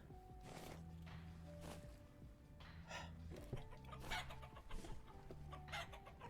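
Chickens in the survival video game Vintage Story cluck repeatedly with an occasional rooster crow, several birds calling in irregular bursts over a quiet background, with faint footsteps between calls.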